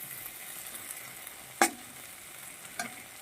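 Food fries in a pan for a mixed vegetable curry with shrimp, a steady faint sizzle throughout, broken by one sharp utensil clink and a softer knock later.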